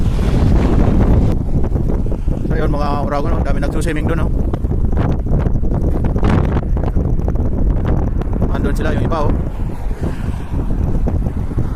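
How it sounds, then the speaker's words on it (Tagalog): Heavy wind at sea buffeting the microphone in a continuous low roar while fishing, with someone talking over it and water splashing in the background. "lakas ng hangin"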